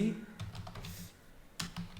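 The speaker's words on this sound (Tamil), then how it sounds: "CLSன்னு டைப் பண்ணி என்டர் கொடுங்க." A few quick keystrokes on a computer keyboard, typing a short clear-screen command followed by a firmer Enter press, close and fairly quiet under a voice.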